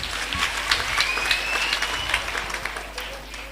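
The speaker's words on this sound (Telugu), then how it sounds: "మన పిల్లలందరికీ గట్టిగా ఒక క్లాప్" An audience claps steadily for children at a children's home festival, dense applause sustained for several seconds at moderate distance, easing slightly toward the end.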